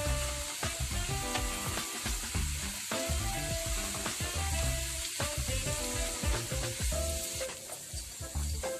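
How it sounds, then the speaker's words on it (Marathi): Steady sizzling and scraping from a pan as dried coconut is stirred and dry-roasted, close up and continuous with no voices. "आता मी खोबरं टाकते, हे व्यवस्थित भाजून घ्यायचं।"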